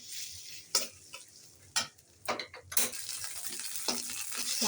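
Onion, ginger and garlic sizzle in a pan while a utensil stirs and scrapes in sharp, irregular clicks over a soft, steady frying hiss.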